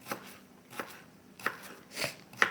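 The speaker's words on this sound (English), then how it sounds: "it's kind of important that you really hurry up and cut the onion that way" A knife chops through an onion on a cutting board, five separate sharp cuts spaced unevenly, fairly close and faint, with no talking.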